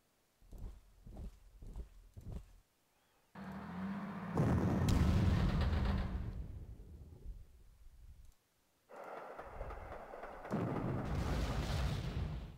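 A K5 railway artillery gun firing in the Panzer Corps strategy game: a few quick clicks, then long heavy booming blasts that swell and slowly fade, two big loud volleys separated by a short silence.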